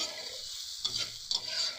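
Turmeric spice paste being stir-fried for mustard hilsa, a steady sizzle with a couple of sharp spoon-scraping stirs, close and moderately quiet, no voices.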